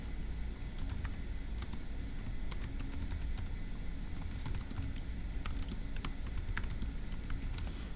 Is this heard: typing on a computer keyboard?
yes